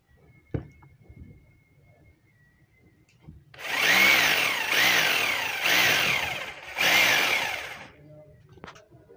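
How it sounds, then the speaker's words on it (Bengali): A repaired hammer drill whose coil fault was fixed runs loud and close in two long bursts with a brief dip between, its motor whine buzzing steadily, after a sharp click and quiet handling noises. "এই যে মেশিন রানিং হয়ে গেছে"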